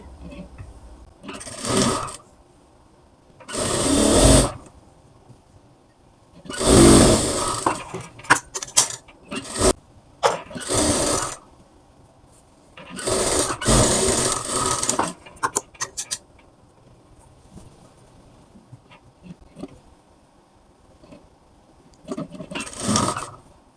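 A sewing machine stitches the side seam of a blouse in several separate bursts of rapid whirring, each lasting a second or two, with short pauses and handling clicks between them.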